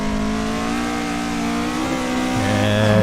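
A 1990s Japanese sports car races on the Nürburgring Nordschleife in the Assetto Corsa driving game, its engine holding a loud, steady drone that climbs in pitch as it pulls away.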